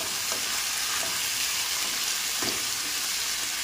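A stir-fry with oyster sauce, oil, salt and sesame oil sizzles steadily in a pan as it is mixed, a constant hiss with a few soft scraping stirs, no voices.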